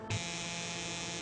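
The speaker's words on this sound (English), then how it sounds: "Ooh, an electronic toothbrush." An electric toothbrush switches on with a short thump and then buzzes in a steady, close, even electric hum, alone with no voices.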